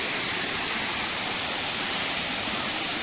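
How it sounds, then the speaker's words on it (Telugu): A forest waterfall near the Orissa border pours in a steady, unbroken roar of rushing water, dense and even throughout with no pauses or other sounds. "అందమైన వాటర్ ఫాల్స్ గండాత్రి చూస్తూ ఉన్నారు కదా వాటర్ ఏ విధంగా వెళ్తుందో"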